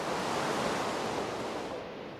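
Steady, dense underwater rush while a player character drowns deep in dark, cold water in modded Minecraft, a loud, even wash of muffled noise throughout that eases off slightly near the end.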